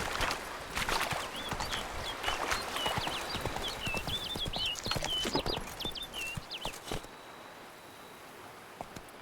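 Horse hooves clip-clopping in the video game Witcher 3, a rapid, even beat of hoofbeats on the ground at close range that runs steadily before easing off near the end, with a faint background tone.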